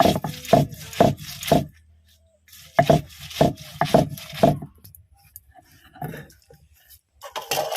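Onions half-crushed on a traditional grinding stone, rhythmic rubbing strokes in bursts of four or five, pausing, then repeating with a rougher grinding texture.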